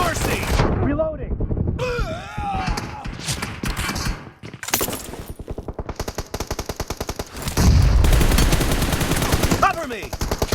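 An S12K shotgun in PUBG Mobile fires in rapid, evenly spaced blasts through the second half of the clip. Short in-game voice shouts and thuds come before the volley and mix with it.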